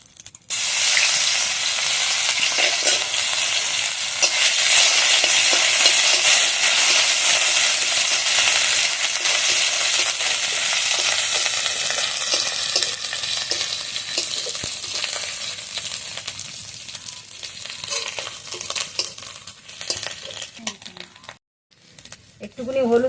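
Dried red chili, bay leaf and ginger paste fry in hot oil for a chickpea dal, a loud, dense, crackling sizzle that holds steady, eases toward the end, cuts out briefly, then returns, close with no talk.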